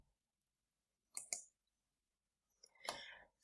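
Computer mouse clicking while working in school timetabling software, a few sharp, quiet clicks in a mostly silent room.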